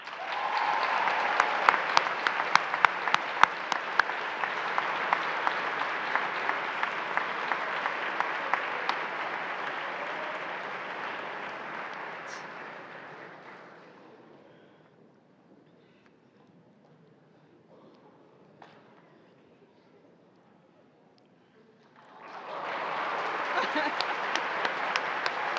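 Audience applause at a school honors day ceremony, a large crowd clapping steadily for about fifteen seconds before fading out, then another round of applause rising again near the end.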